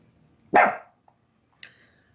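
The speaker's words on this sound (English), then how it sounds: "He just likes barking at things." One loud, close dog bark rings out, followed after a pause by a short, softer yelp trailing off.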